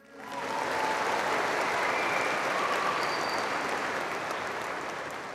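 Audience at the 2019 Washington Technology Magnet High School graduation applauding for Mr. Baker, a broad wash of clapping that swells in quickly and stays steady, slowly tapering at the end.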